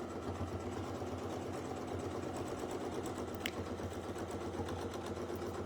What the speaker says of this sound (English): and we'll just keep sewing.